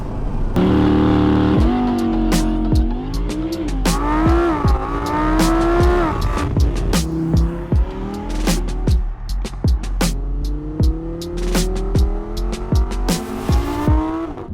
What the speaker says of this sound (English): So this is an R8 V10 Plus.